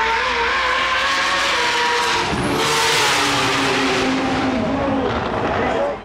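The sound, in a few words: Nissan GTR R32 street car accelerating in roll racing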